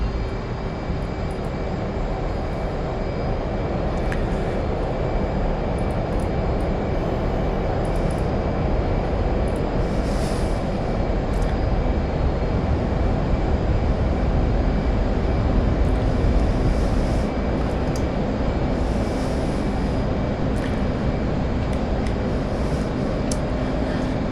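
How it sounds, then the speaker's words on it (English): An F/A-18 jet rolls for takeoff in the DCS flight simulator, producing a loud, continuous roaring jet-engine drone with a thin steady whine held high above it, sustained without talk. "we're going to push for takeoff"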